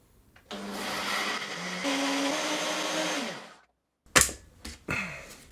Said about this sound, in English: And now we just need to give it a blend.